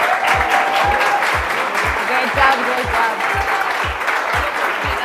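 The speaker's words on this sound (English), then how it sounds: "And everyone, please, another round of applause for all of them." Strong applause fills a startup demo day event for winners on stage, with a steady low thumping beat underneath and a voice briefly speaking over the clapping.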